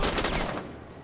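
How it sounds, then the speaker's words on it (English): Gunfire rattles in a Rainbow Six collegiate esports match, a quick burst of rapid shots that fades away within about half a second. "And they do exchange gunfire."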